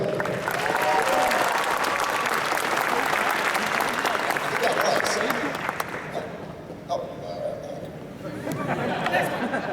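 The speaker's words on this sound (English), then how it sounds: "Let's give one more round of applause for Chin Dako." A crowd at an anime convention's opening ceremony applauds loudly with steady clapping and cheering chatter, then the clapping fades to scattered claps and murmuring.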